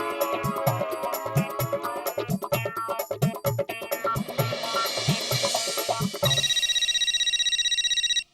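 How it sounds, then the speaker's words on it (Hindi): A phone rings with a repeating electronic melody amid rhythmic music, ending in a sustained high tone. "ओए टप्पू, ये तो तेरा फोन है।"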